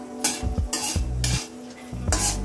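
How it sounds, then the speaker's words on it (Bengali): Bay leaf and panch phoron tempering frying in oil for a Bengali mango chutney, with several distinct bursts of sizzle and clinks of a utensil against the pan, close, with no talk. "ফোড়নটা আমি ভালো করে ভেজে নেব।"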